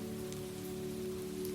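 Steady rain falls on pavement along a Seattle street of old brick buildings, a dense, even hiss of drops with no pauses, close and continuous.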